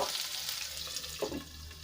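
Capsicum sizzles and fries in a covered pan as a pizza topping, a steady close hiss with a soft stir or shift partway through.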